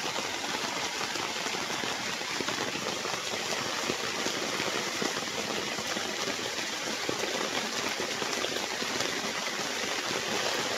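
A stream flowing through a farm in Majayjay, Laguna during rainy weather, a constant rushing wash of water that stays loud and even from start to finish, with no talking.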